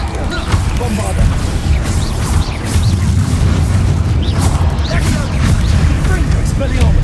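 A Bombarda blasting spell in a wizarding video game sets off loud, continuous explosive booms and crashing debris, dense low rumble filling the whole stretch with no pause.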